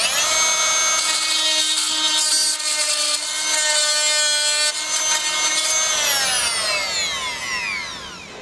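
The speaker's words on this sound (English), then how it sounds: "You watch what it does when we cut timber." A Fein Multimaster oscillating tool cuts through timber, making a loud, close, steady high-pitched buzzing whine for several seconds that winds down in pitch as the blade slows at the end.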